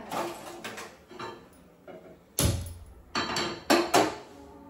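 A metal pan is set down on a stove to heat for masala chai, with several sharp clanks and knocks, close and fairly loud, separated by quieter handling noise.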